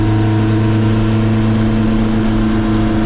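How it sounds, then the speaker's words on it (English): A freshly built Ford Crossflow race engine in a TVR, fitted with a new exhaust, holds a loud, steady, close rev with a strong droning tone throughout, with no talk. "But it really revs well, so free revving."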